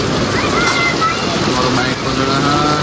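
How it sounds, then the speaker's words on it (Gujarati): Steady rain pours down during a Navratri fair, a dense, unbroken hiss filling the whole stretch with no pauses, close and loud throughout. "જો વરસાદ કેવો પડે"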